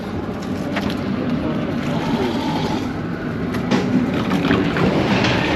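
Shalimar Express passenger train rolling slowly through Kotri Junction, heard from inside as a steady rumble with rattling wheel and carriage noise and a few brief squeals.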